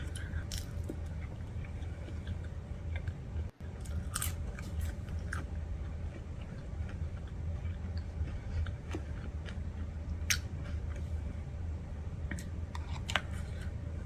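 A woman eats a family-sized meal alone, with close, continuous biting, crunching and chewing sounds, irregular soft clicks and mouth noises throughout and no talking.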